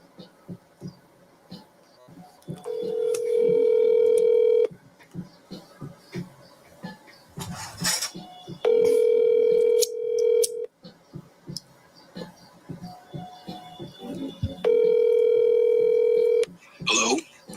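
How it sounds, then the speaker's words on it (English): A phone on speakerphone gives three loud, steady tone bursts a few seconds apart, with quieter dialing beeps and low throbbing in between. "let me go ahead and call the guy. I'm going to put him on speakerphone."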